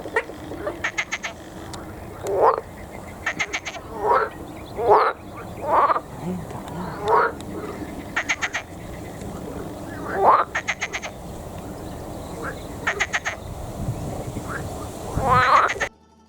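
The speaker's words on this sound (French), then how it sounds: "La grenouille verte est très présente également et se fait remarquer par ses chants" Green frogs give loud, close mating calls in repeated bursts of croaks with rapid pulsed rattles between them, set against a steady outdoor background at a wetland stream.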